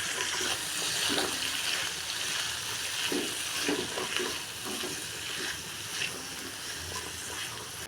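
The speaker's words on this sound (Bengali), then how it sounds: "সব কিছু একসাথে একটু ভেজে নিব।" Chopped vegetables and fried dried fish sizzle and crackle steadily in a pan, with occasional scraping stirs, moderately quiet and close.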